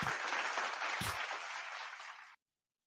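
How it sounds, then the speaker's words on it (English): A round of applause from a crowd, a steady dense patter of clapping that fades slightly before cutting off abruptly, with a brief low thump partway through. "So give her a round of applause there."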